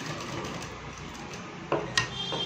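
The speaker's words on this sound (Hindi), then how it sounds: "इसके ऊपर अब सिलाई लगा देंगे हम" A sewing machine stitches a women's shirt collar, its faint, steady mechanical whir running under the room tone with a couple of brief clicks near the end.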